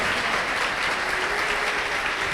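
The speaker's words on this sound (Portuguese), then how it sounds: "Pode aplaudir bem forte." A church congregation applauds loudly and steadily, a dense wall of clapping filling the whole moment with no talk over it.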